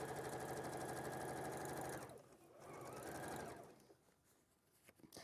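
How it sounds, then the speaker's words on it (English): A sewing machine runs fast and steady for about two seconds as it stitches fabric, then slows and stops with a shorter burst and a few handling clicks after. "I'm just going to sew it all the way round, because then it will be easier."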